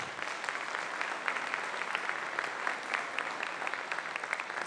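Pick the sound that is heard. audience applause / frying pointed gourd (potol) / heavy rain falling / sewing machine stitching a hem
audience applause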